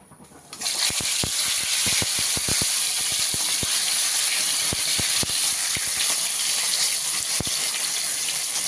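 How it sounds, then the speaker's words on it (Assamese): Potatoes boil in a small wok on a home stove, giving a steady loud hiss and bubbling with frequent sharp pops and crackles scattered throughout, no voices. "সৰু কেৰাহীটোলৈ এইপিনে আলু বইল কৰি আছোঁ।"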